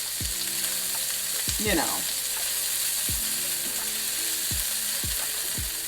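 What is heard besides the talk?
onions sautéing in a pan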